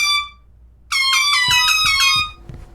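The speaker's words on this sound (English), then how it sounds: "Air horn?" A short air horn toot, then a longer loud blaring air horn blast, harsh and brassy, ending abruptly, in the video game Shelf-Life.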